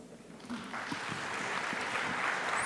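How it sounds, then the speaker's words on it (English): Audience applause for panelists at a national global change conference session, a broad wash of clapping building from moderate to fuller and steady over a few seconds, with a faint voice underneath at the start. "a full round of applause for their preparations and their engagement"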